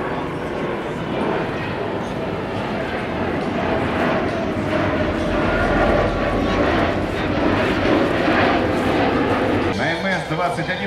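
MS-21-300 airliner making a low pass over the runway at an air show, a broad, steady jet roar filling the scene throughout with a commentator speaking over it and a dog barking nearby.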